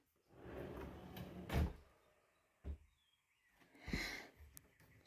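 Soft-close cabinet drawers in a tiny house: several quiet sliding runs, each ending in a gentle, damped thud, with short pauses between the closings.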